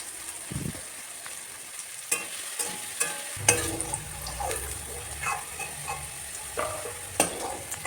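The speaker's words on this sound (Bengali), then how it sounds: "তারপরে আলুগুলো দিয়ে ভালো করে ভেজে তুলে নেব।" Potatoes fry in hot oil with whole cumin, garam masala and bay leaf in a wok. Soft sizzling comes with intermittent scraping and stirring clatters, fairly quiet and close.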